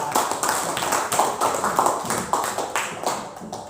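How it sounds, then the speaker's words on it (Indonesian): Students applaud after shot put practice at a high school, a short burst of clapping from a small group, close and uneven, lasting a few seconds. "kasih aplaus buat"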